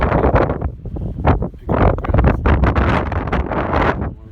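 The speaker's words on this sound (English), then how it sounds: "oh, that wind" Strong, gusty wind during a cold rain storm over a big cattle pasture, roaring and buffeting the microphone loudly and continuously with no clear speech.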